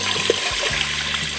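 Water pours into an Instant Pot holding rice, a short close trickling splash over a low steady hum.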